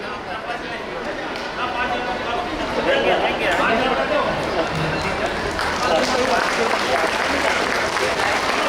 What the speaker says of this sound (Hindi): जोरदार तालियां बजाकर बच्चों की हिम्मत अफजाई करें